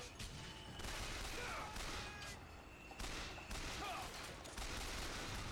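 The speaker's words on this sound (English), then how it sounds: "Not my favorite weapon here, the repeater gun." A repeater gun fires in Bioshock Infinite, bursts of rapid gunfire in several volleys separated by short gaps, fairly loud in a game soundscape.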